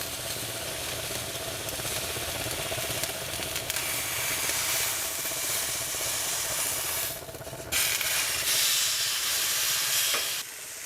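Steak sizzles and fries loudly in a hot pan just after being flipped, a constant close hiss that swells briefly at a couple of points.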